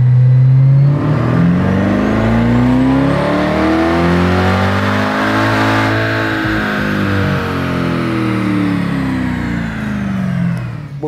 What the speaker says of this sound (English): we did put the car into dyno mode, which means we fixed the front wheels so they can't turn